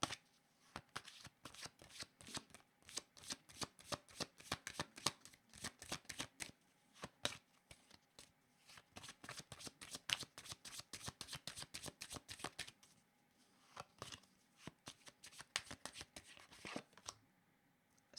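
A deck of tarot cards is shuffled again and again, with bursts of close, crisp riffling and flicking that come in steady runs with short pauses, alone and without talk.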